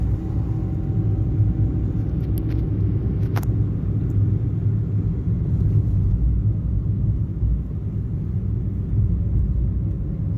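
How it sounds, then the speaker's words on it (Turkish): Car engine in a driving-school lesson, over-revving after dropping from second gear; a loud, steady low roar and drone runs through the whole stretch with no voices. "araba tekrar aynı devre istiyor ve bağırıyor"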